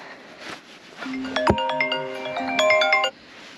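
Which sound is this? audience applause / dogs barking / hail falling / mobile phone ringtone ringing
mobile phone ringtone ringing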